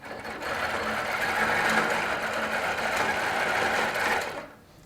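A Baby Lock sewing machine quilting with couching feet over handmade cording, running in one steady, fast whirring stretch before winding down at the end.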